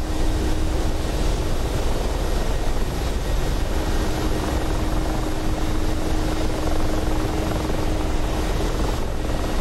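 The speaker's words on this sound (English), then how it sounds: "It's another fast helicopter, look at that speed." Helicopter in the DCS combat flight simulator game, a fast gunship flying at speed; a steady, loud rotor and engine drone with a constant hum continues throughout.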